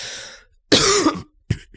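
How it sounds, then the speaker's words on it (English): Several harsh coughs from a man during a beatboxing livestream: one rasping cough trailing off, a pause, a louder forceful cough, then a short final hack, all close and alone with no talking. "I'm trying not to cough"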